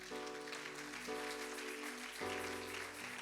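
A congregation at a French-language church service applauds, a steady, dense wash of clapping under sustained organ or keyboard chords.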